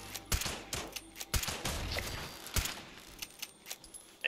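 Rapid gunfire in Fallout 76 aimed at an Assaultron robot, a quick run of sharp close shots with short gaps between bursts and mechanical clatter, with no voices.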